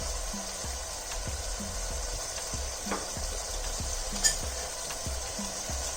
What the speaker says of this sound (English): Now just give it all a mix.